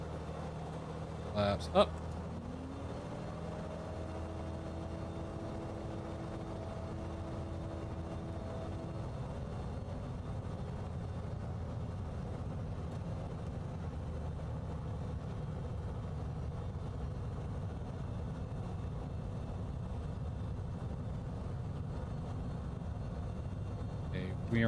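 Airplane engine in a flight simulator game throttling up for a night taxi, a steady low hum with a rising tonal whine early on, and someone speaks briefly over it.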